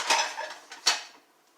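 A knife slices through a loaf of homemade apple walnut bread with two short crisp cuts, close and fairly quiet, the second stroke sharper than the first, with no talking.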